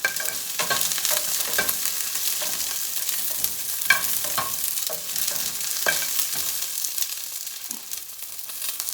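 Handmade corn tortillas fry and brown in a hot pan, giving a steady close sizzle with scattered crackles and pops throughout, loud and continuous with no talking.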